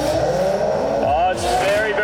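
Two R32 Nissan Skyline race cars, a GT-R and a GTS, launch off a start line together, engines revving hard and climbing in pitch through the gears under excited commentary, with a brief tyre chirp.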